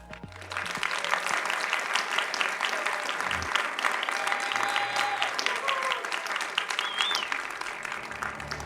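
An audience applauds steadily at a startup accelerator pitch event, a dense, sustained wash of clapping that fills the whole stretch, with faint music and a voice underneath.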